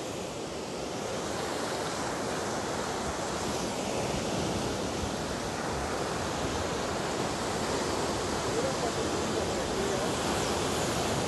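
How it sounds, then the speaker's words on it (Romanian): Ocean waves breaking on a rocky Brazilian shore, a dense, steady roar of surf with wind-like hiss, constant and fairly loud throughout with no clear pauses between swells. "Oceanul."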